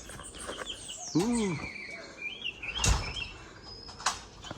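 Morning birds in Puerto Rico give loud chirps and swooping calls in scattered bursts, with clattering and a brief exclaimed voice in between.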